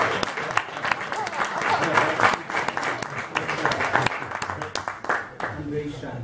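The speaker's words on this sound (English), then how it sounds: "I want to give an applause to the drummer" An audience applauds a drummer at a live talk event, with steady, fairly loud clapping from a crowd that lasts several seconds before thinning out, mixed with scattered voices.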